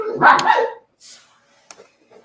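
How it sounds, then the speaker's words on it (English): Puppies bark: one loud, close yapping burst, then a few fainter short yips and whimpers scattered through the quiet that follows. "We have puppies."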